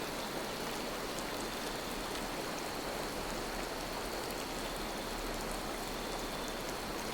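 Continuous rain in the video game Disney Dreamlight Valley pours down in a uniform rushing wash, like a heavy shower or running water, steady throughout with no talking.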